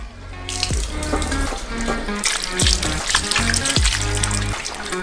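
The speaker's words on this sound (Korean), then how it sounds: "수박을 수도꼭지로 가져가서 흙을 깨끗이 씻어내요." A whole watermelon is rinsed of soil under a running tap, steady splashing water close by with continuous spatter and trickle throughout, no voices.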